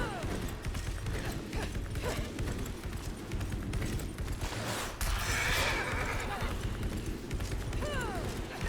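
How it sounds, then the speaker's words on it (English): A horse neighs and its hooves clatter in a video game dungeon, amid busy game effects and combat noise, with a rising whinny partway through. "I'm having too much fun with this horse."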